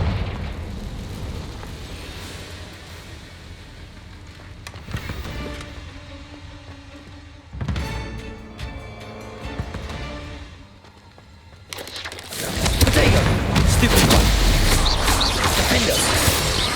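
Confringo fire-blast spell in the Hogwarts Legacy video game, a couple of muffled booming bursts followed by a loud sustained roaring explosion, with no speech.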